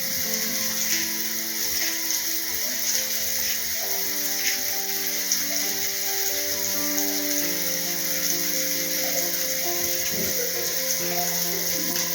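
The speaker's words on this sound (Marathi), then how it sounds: "तर आता आपण फ्राय करून घेऊ" Surmai fish fillets fry in oil on a flat tawa, a steady close sizzle and crackle running continuously with faint kitchen clinks and no speech.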